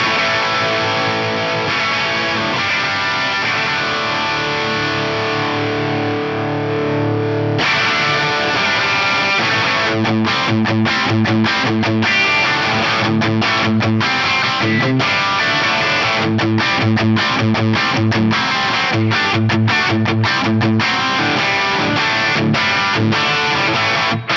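Distorted electric guitar through an Axe-Fx III amp model of an old Marshall with supply sag raised, playing a chugging rock riff in A with sustained chords and rhythmic palm-muted stabs, loud and continuous with no voices.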